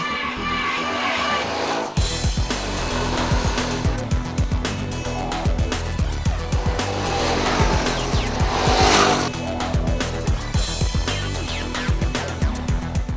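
A 2012 TVS Phoenix motorcycle being ridden, its engine loud and close with a steady drone that rises and falls as the rider works through the gears, with no talk.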